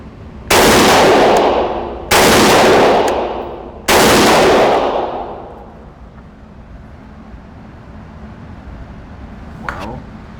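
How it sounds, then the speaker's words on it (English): Three loud, close rifle shots from a Springfield Armory Hellion 5.56x45mm bullpup, evenly spaced about a second and a half apart, each with a ringing decay, followed by quiet outdoor background. "3 more shots here."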